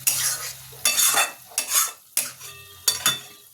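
Okra and pumpkin curry stirred in a pan, a spoon scraping and clinking against the metal in several distinct strokes over a soft sizzle, close and alone.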